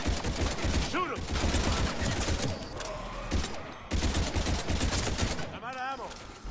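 Gunfire from the Mass Effect video game during an escape battle on Mars against husks: dense, continuous bursts of rapid shots mixed with game effects and a brief voice shout, loud throughout.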